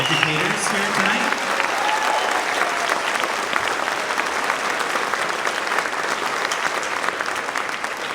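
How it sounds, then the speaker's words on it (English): An audience at a school district music festival applauds for music educators, a full, steady wash of clapping from a large crowd that holds at an even level throughout. "Can we give a round of applause to all the music educators here tonight?"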